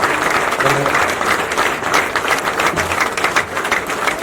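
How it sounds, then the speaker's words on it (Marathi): A crowd at a pan traders' association rally at Azad Maidan breaks into dense, steady applause to welcome the state president, the clapping loud and continuous throughout. "टाळ्या वाजवून स्वागत करा प्रदेशाध्यक्षांचं."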